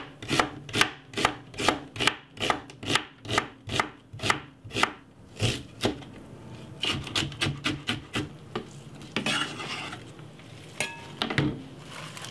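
A knife chops half a red onion on a board with a steady run of crisp, evenly spaced thuds. The cuts then speed into quicker, closer chops, followed by softer scraping and shuffling.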